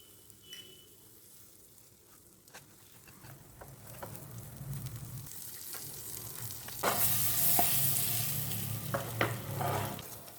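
Boiled eggs turned over and roasting in a pan for egg dry roast, giving a steady close sizzle with light stirring and patter that grows louder near the end, no talking.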